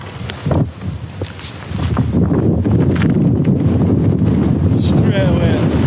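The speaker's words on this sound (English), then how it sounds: "Quicker we get up, quicker we get out of this wind." Strong wind buffeting the microphone while hiking the Cumbria Way, a loud, roaring rumble that builds after a couple of seconds and stays steady, with a voice heard faintly early on.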